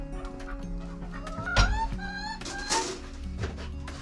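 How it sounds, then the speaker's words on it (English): Chickens cluck and squawk nearby indoors in a kitchen under renovation, a few sharp calls standing out over a low steady hum. "Come on, chickens, out of the way."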